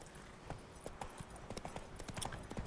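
Horse hooves clip-clop in quick, even beats at a trot in The Witcher 3, quiet and close with light game ambience around them.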